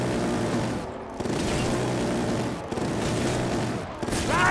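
Rapid sustained gunfire from a heavy weapon in Call of Duty Black Ops 3 Zombies, dense loud bursts broken by two or three brief pauses.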